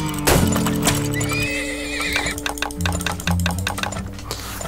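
Horses whinny and hooves clip-clop in the oil-drilling video game Turmoil, a clear neigh rising over steady trotting beats and light game music, close and moderately loud with no talking.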